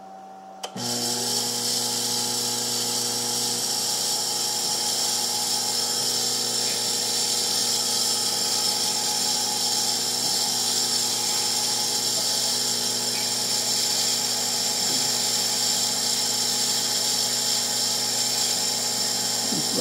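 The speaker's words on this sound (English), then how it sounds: "now we're going to cut side A of the 20 millimeter triangle" A power tool cuts side A of a 20 mm triangle pendant, giving off a steady high-pitched whine that starts after a second and runs on unbroken and even.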